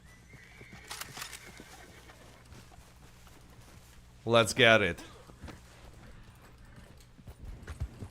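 A horse in the Red Dead Online video game whinnies loudly for a moment mid-clip, with clip-clop hoof sounds and other game noise around it, while a person speaks briefly.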